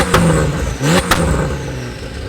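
A modified Porsche 911 992.2 Carrera revs and accelerates close by, its engine note rising in quick bursts with sharp pops between them.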